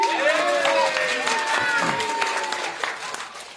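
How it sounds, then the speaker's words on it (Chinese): A theater audience applauds at a Deyun Society crosstalk show: dense, steady clapping that fades slightly toward the end, with voices mixed into it. "就是你们刚才这个掌声"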